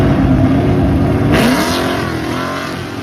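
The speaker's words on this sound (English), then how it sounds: "This time the car launched great" Drag race car launching hard down the strip at a Sick Summer drag event, a loud sustained engine roar that surges and shifts midway, then carries on steadily as the car pulls away, with no talk.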